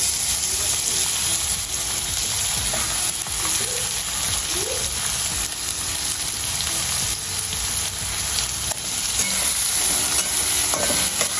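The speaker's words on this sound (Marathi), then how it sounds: "छानपैकी असं परतून घ्यायचं" Onion sautés in a pan for milk shev bhaji, giving a steady, close sizzle and crackle with occasional stirring scrapes. No one speaks.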